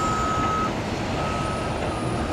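A truck at a construction site for a water recycling facility in Los Angeles gives a loud, steady reversing beep that repeats over a continuous engine rumble.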